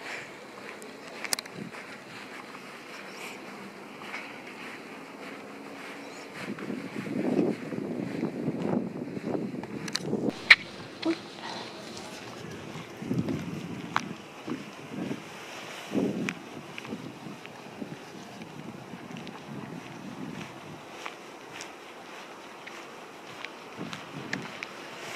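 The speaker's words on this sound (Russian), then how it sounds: "Какой дует сильный ветер." Strong spring wind gusts across the microphone during a walk along a flowering tree-lined lane in Murray, Utah, a soft continuous rush with irregular louder buffets and faint rustling, fairly quiet overall.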